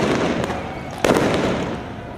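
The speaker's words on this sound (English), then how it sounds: "It's fireworks." Fireworks go off outdoors during unrest in Los Angeles: a steady wash of crackling noise, then one sharp, loud bang with a bright burst, and crackle that carries on after it.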